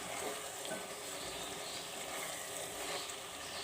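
Cauliflower is tossed into keema frying in a pan, giving a steady, dense sizzle with continuous crackle that holds at an even level throughout.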